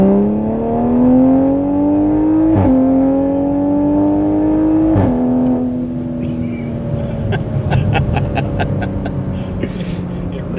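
Heard from inside, a Toyota Supra with a ZF automatic transmission accelerates hard, its engine tone climbing through quick gear shifts with brief breaks, then settling to a steady drone while people talk over it.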